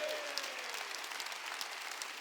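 A church congregation applauds during a sermon with a dense, continuous wash of many hands clapping at once. It is steady and fairly loud throughout, with no voice over it.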